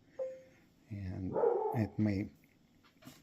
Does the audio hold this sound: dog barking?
yes